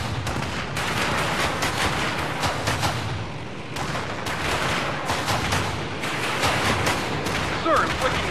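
Cannon blasts and gunfire in the war video game Battle Battalions, dense repeated bursts of booming shots and crackling fire, loud and continuous with short lulls between volleys.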